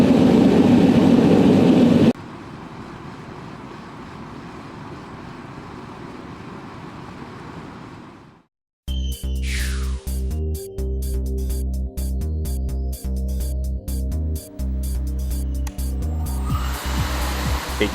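Industrial outdoor space heaters, including a Val6 radiant infrared unit, running in turn for comparison. A loud roaring blower cuts off to a much quieter steady hum, and after a brief silence a pulsing mechanical drone follows.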